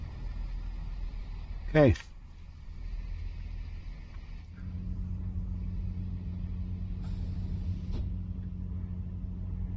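A Class 43 train engine starts up in the Train Sim World 2 video game: a quick rising starter whine, then a deep diesel rumble that builds and settles into a steady, loud idle, with a brief spoken word.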